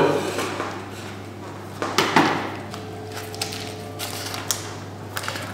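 A knife cuts through homemade puff pastry in a restaurant kitchen, giving a few sharp scattered clicks and crisp taps against the board with faint background noise.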